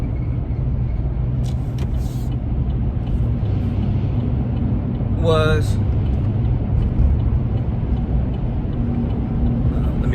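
Busy road traffic heard from inside a car, a steady low engine and road rumble running throughout with someone talking over it.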